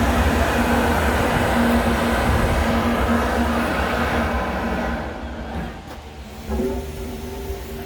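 A homemade waste oil burner heater with a blower and gate valve roars steadily at full air, a loud broadband rumble with a low hum that drops away partway through before a softer, uneven flutter returns.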